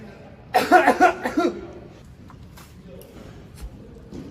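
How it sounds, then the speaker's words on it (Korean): Someone gives a burst of several close, loud coughs in quick succession, followed by faint shuffling and quiet room sound. "누가 기침 소리 내었는가?"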